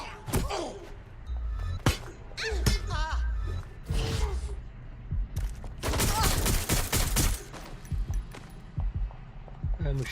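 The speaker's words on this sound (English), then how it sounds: "I'm gonna shoot my way through." Bursts of gunfire from the Watch Dogs Legion video game crack out in rapid volleys with heavy thuds, close and loud. Voices and game sounds mix in between the shots.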